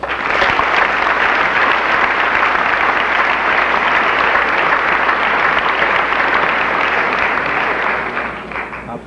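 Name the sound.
graduation audience applauding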